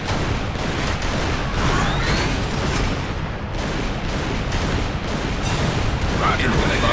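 Bombs exploding in the war game Victory Command: a dense, continuous barrage of booms and gunfire-like blasts, loud and close, with a voice speaking briefly over the din.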